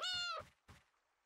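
One short, close cat meow from DYSMANTLE, a single clear call followed by a couple of soft thumps, then quiet.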